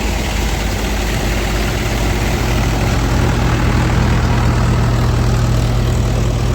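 A tractor on a groundnut threshing site idles steadily, a loud, continuous low engine rumble with an even throb that stays constant throughout, with no voices heard.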